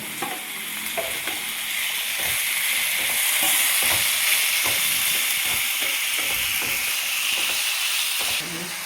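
Three finely chopped tomatoes fry in a pan for prawn biryani with a steady, loud sizzling hiss, broken by regular scraping knocks of a spoon stirring through the mixture.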